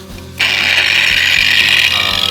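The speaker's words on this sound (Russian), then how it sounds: "упираю одним пальцем в кожух и потихонечку завожу вот сюда в шов, и он мне начинает этот диск выбирать все, что тут осталось" An angle grinder disc spinning at its lowest speed to clear leftover tile adhesive from tile seams, a close, loud, steady high whine that starts abruptly and holds over a low mechanical rumble.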